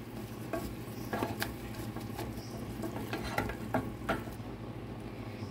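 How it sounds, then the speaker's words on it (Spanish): A flour roux cooks in a pan over lowered heat for a soubise sauce: a steady low sizzle runs throughout, broken by repeated scraping and tapping of a utensil stirring against the pan. "Vamos a bajar el fuego un poquito para cocinar la harina."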